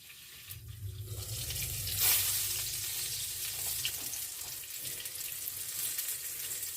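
Fish cutlets sizzle in oil in a frying pan, a steady close crackle and hiss that swells briefly around two seconds then holds evenly to the end, with no voices.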